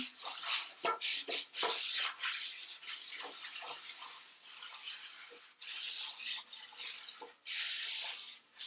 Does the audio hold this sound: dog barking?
no